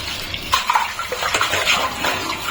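Running tap water pours over a block of frozen prawns stuck together, a continuous close splashing with small bursts as the pieces shift under the stream.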